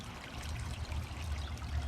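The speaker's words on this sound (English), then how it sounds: "the sound of running water" Water running and trickling into a garden fish pond, a steady gentle splashing burble with a low rumble underneath, close and continuous.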